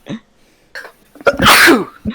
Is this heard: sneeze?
yes